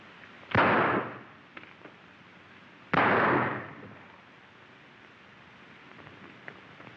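Two loud gunshots ring out in a 1933 western gunfight, each a sharp crack with a brief echoing tail, spaced a couple of seconds apart against quiet room tone.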